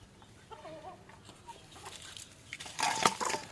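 Chickens cluck and murmur softly nearby as bran is scattered for them, with scattered scratchy clatter growing louder toward the end.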